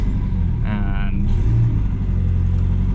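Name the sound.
Nissan 240SX power steering pump whining as engine revs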